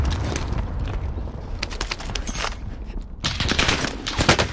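Bursts of automatic rifle fire from an EM2 assault rifle in a Warzone match on Rebirth Island, loud and close, coming in rapid volleys with short gaps and a heavier exchange near the end.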